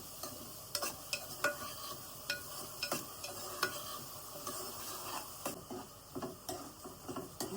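Onions fry with salt in a pan, a soft sizzle running underneath while a spoon scrapes and stirs in repeated irregular clacks, fairly close and quiet, with no talking.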